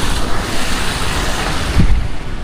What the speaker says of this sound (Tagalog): Ganyan po itsura dito pagka nakabukas yung waterfalls nila.